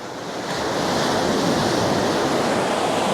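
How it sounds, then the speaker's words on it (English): Sea surf washes steadily onto a shore, a loud, continuous rushing hiss of breaking waves with wind buffeting the microphone, no voices over it. "Get that water going back out."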